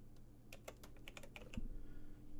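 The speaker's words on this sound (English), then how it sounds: "I'm bad at typing." Irregular keystrokes on a computer keyboard while entering random letters for a cipher in Receiver 2, about a dozen quick clicks in uneven bursts over a low background hum, ending with one heavier thump, no talking.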